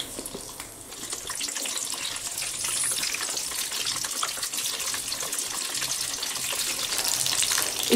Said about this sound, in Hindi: तेल गरम होने के बाद हमने जो परवल को कट किए हैं इसमें हम डाल के इसे फ्राई